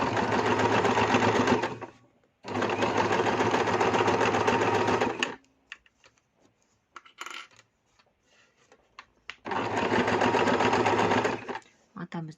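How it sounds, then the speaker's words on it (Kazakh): A sewing machine stitches a seam along the edge of ethnic-print shopper bag fabric in two long steady bursts, then pauses through quiet handling clicks before a third run starts. "Міне лапканың шетіне 1-2 см қалдырып, мына жерден тура шетінен тігіс жүргіземіз."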